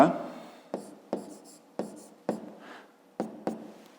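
A pen writes on paper in a fifth-grade maths exercise, with a series of short sharp strokes at irregular intervals, close and fairly quiet, while a voice speaks.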